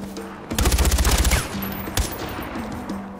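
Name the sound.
machine gun fire in video game Far Cry 4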